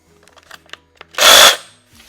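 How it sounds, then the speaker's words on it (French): A few light clicks and taps, then an oscillating saw with no blade fitted buzzes loudly for about a third of a second before stopping abruptly. "La scie va et vient."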